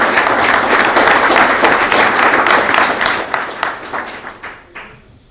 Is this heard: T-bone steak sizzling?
no